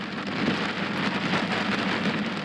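Heavy rain from a storm in Kruger National Park pours in a dense, steady hiss of drops on surfaces, loud and close, with a low rumbling undertone and no voices.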